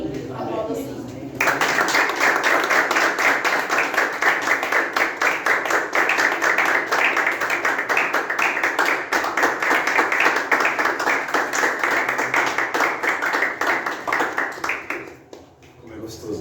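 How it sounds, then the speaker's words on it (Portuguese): Congregation applause in church at the close of an evening service: after a brief quiet start, a loud, even burst of many clapping hands runs for most of the stretch, then tapers off and stops near the end. "Aplauda o Senhor."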